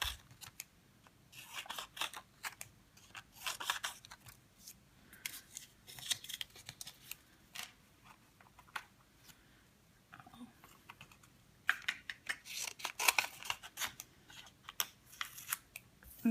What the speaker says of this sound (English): cut on the dotted line, like it says there, and then cut each of these